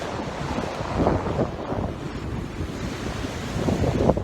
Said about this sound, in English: It's sunny but windy, so I will not be getting in the water.